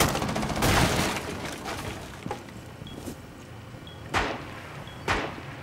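Sharp gunshots from a video game ring out one by one at irregular intervals over a soft background, with no voices during the shots.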